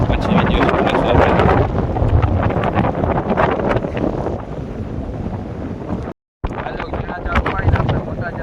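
Strong wind buffets the microphone at the water's edge during fishing, a loud continuous roar with gusty surges and possible water sounds, broken by a brief silent gap near the end.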